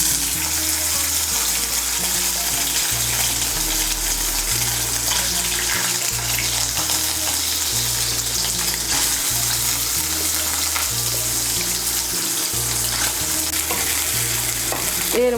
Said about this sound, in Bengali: তেলটা গরম হয়ে গিয়েছে। এর মধ্যে আমি সোয়াবিনগুলোকে ভেজে নিচ্ছি।